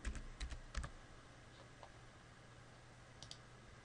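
A Bluetooth pairing code is typed on a computer keyboard, a quick cluster of sharp key clicks near the start followed by a couple more taps later, faint and close in a quiet room.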